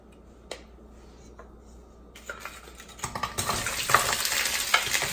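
Frozen Gulf shrimp fry in a pan with minced garlic and seasonings. After quiet clicks and handling, a sizzle jumps in and grows to a loud, steady hiss with crackling pops.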